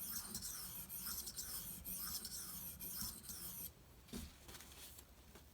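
Benchmade Anthem knife blade is rubbed on a Shapton Pro whetstone, a soft steady rasping of back-and-forth strokes close up, ending in a few quieter scrapes.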